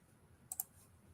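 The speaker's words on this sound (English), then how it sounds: "Let me hit the delete key on my keyboard." Two quick, faint clicks of a computer keyboard key being pressed, close together, against a soft room hiss with no voices.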